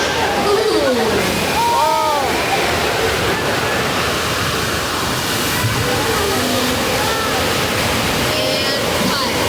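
Staged water effect for a movie scene: a steady, loud rush of pouring and splashing water lasting throughout, with voices and exclamations heard over it.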